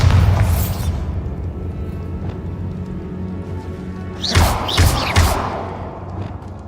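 A Bombarda spell blast in Hogwarts Legacy inside a tomb, a low booming explosion at the start followed by a second burst of crashing impacts and debris several seconds later.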